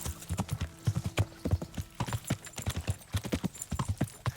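Horse hooves clip-clop in a steady, brisk rhythm throughout in the medieval game Kingdom Come Deliverance, close and clear with no talk over them.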